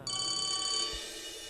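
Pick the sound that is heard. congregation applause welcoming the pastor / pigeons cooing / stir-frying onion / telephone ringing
telephone ringing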